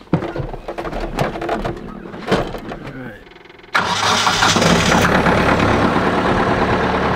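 A tractor sits quiet amid outdoor ambience and brief sounds, then its engine catches partway through and settles into a steady, fairly loud idling rumble that continues to the end.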